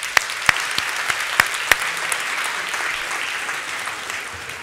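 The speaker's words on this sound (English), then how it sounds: "a round of applause for our helpers" An audience at a children's Christmas science lecture applauds the helpers, with a few sharp claps standing out at the start before the clapping settles into a steady, even wash that carries on for several seconds.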